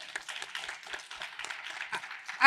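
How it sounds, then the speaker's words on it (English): Audience at a social justice media panel gives a round of applause, a dense patter of many hands clapping at moderate distance, steady throughout and swelling slightly at the end, with no voices over it. "I actually appreciate a round of applause, please."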